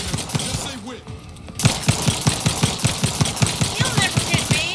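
Rapid video-game gunfire rattles in a steady, evenly spaced burst of sharp shots, loud and close, after a brief quieter stretch with scattered game noise and faint voice.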